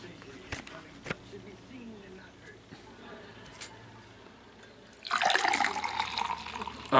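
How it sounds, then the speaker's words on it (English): Johnny Appleseed cider is poured into a glass, with quiet handling sounds first and then a loud, fizzy splashing pour in the last two seconds. "let's pour it in the glass"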